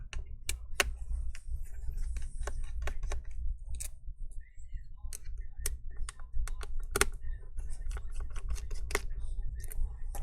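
Small screws are undone by hand on a MacBook Air A2337 using a tiny driver, sharp irregular clicks and ticks close up against a quiet background, with soft speech at moments.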